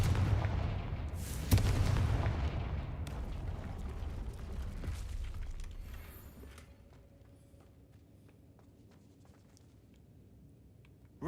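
Fiery spell blasts from the Confringo curse in Hogwarts Legacy, a loud explosive boom with a sharp crack that rumbles and fades over several seconds into quiet game ambience.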